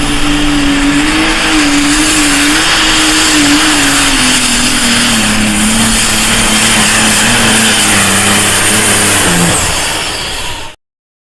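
A diesel super stock tractor at a pulling competition roars at full throttle, loud and close. Its droning engine pitch sags slowly over the run before the sound cuts off abruptly.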